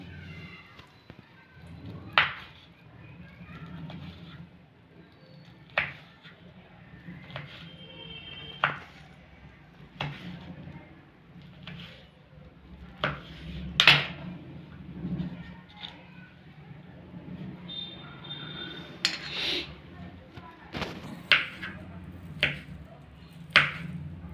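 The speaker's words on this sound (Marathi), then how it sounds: "आता आपण याच्या वड्या पाडून घेऊया" A knife cutting cooled spinach vadi into pieces on a board, a slow run of sharp, separate chops and taps spaced a few seconds apart, close, with someone speaking intermittently between cuts.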